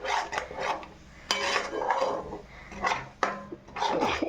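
A spatula rasps and scrapes through spinach (palak) frying in a pan, with four or five separate scraping strokes broken by short pauses, close up and moderately loud.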